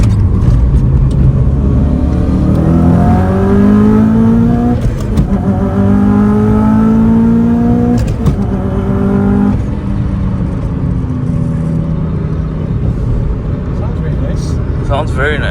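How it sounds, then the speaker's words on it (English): A 2005 Subaru STi engine accelerates hard while driving through city traffic and tunnels, loud and close, with rising tones as it climbs through gears, then settling into a steady drone; people talk over it. "Sounds very nice, and it's fast enough for Dhaka city"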